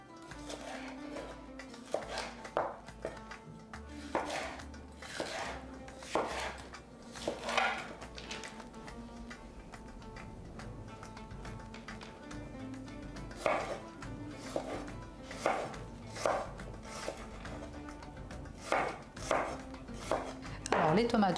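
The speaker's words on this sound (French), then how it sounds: "Alors mon dernier poivron, j'ai choisi le jaune, hein, vous pouvez prendre n'importe lequel. Je vais le découper en petits carrés." A knife chops a yellow bell pepper into small squares on a board: bursts of sharp, close taps in irregular clusters with pauses between runs, and faint kitchen clatter in the background.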